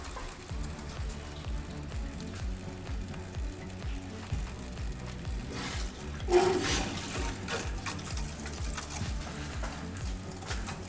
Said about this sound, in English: I will start getting water running through this flush valve here